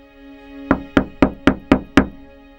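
Knocking on a door: five sharp, evenly spaced knocks, close and loud, following a faint low hum.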